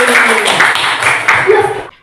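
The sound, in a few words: classroom children clapping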